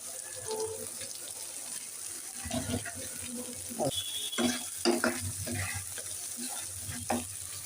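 Garlic and ginger paste sizzle and fry in a pan close up, with occasional scraping and clinking as the food is stirred.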